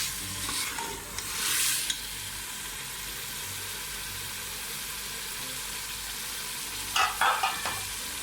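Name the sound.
frying chicken with bottle gourd and turmeric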